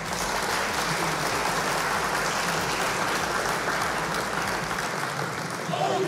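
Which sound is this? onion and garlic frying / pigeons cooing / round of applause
round of applause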